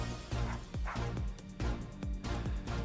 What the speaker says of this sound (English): That sounds like barking. I can hear barking inside!